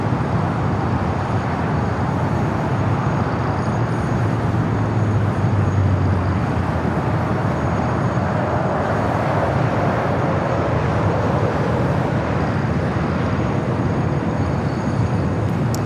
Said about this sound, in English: Emirates now in position for takeoff there on the north side on 24 left